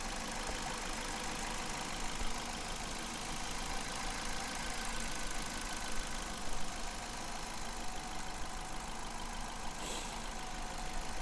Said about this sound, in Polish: Te silniki pracują na tyle cicho, że producent tutaj nie założył pokrywy dolnej